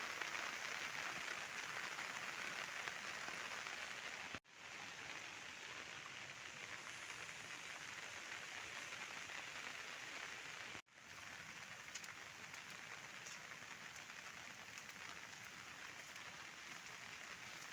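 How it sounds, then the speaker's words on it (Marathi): Steady, heavy monsoon rain pours down continuously in a jungle, a dense hiss of drops on leaves and ground, with two brief cutouts in the sound. "पावसात पूर्ण भिजायला होतंय"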